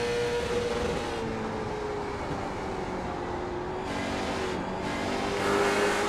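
Onboard a late model race car at Myrtle Beach, the engine drones loud and steady at high revs, pitch sliding slightly as it works through the turns, with a brief lift in tone near the end.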